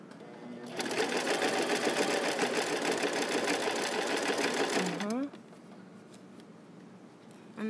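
A sewing machine stitches fabric in a fast, even run of rapid needle clatter for about four seconds, then slows and stops, followed by quieter handling sounds and a faint voice.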